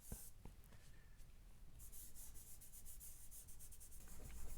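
A pencil smooths shading on paper during portrait drawing, giving soft, close scratching and rubbing strokes that speed into a quick back-and-forth rhythm in a quiet room.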